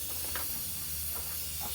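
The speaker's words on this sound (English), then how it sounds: "Sounds like it does have an air leak." Steady hiss of compressed air escaping from a leak on a truck's air system, a constant airy rush with a few brief swells, close by and with no talk.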